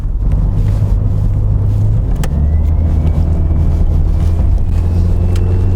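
A Peugeot 607 front-wheel-drive sedan driving with its engine running, a loud steady low rumble with a slight shift in pitch partway through, as if changing speed, with no talking.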